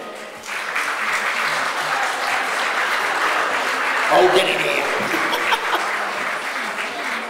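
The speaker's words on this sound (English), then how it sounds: "a loud round of applause for Bill and Janine" Wedding guests applaud steadily as the best man and matron of honour enter, a dense, sustained round of clapping with a few cheers and short shouted remarks mixed in.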